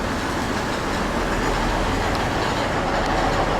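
A train at Bucharest station, service 1095 bound for Ruse in Bulgaria, fills the scene with a steady, loud mechanical rumble and hiss with no breaks, heard close by and with no voices.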